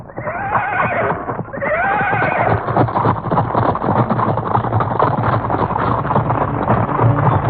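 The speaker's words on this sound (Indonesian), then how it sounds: "Serombongan orang-orang berkuda." A group of horses with riders approaches, a burst of loud whinnying opening over steady, dense clip-clop of hooves that continues close and loud throughout.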